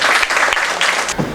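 Students at a school assembly clap in a lively burst of applause, fairly close and loud, with a few sharper individual claps through it.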